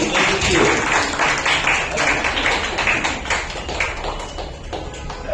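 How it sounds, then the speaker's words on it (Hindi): Dense, continuous applause from an audience fills the room at an oratory award ceremony, many hands clapping steadily at close range with a faint voice underneath. "तालियां बजती रहनी चाहिए।"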